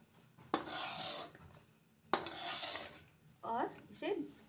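A spoon scrapes and stirs butter chicken curry with kasuri methi in a metal pan, in three distinct scraping bursts with brief pauses between, close and clear with no talking.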